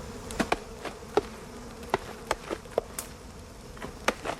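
Wasps buzz around a smoked nest while smoke rises through layers of larvae, with repeated sharp close passes and clicks over a low steady drone, no talk.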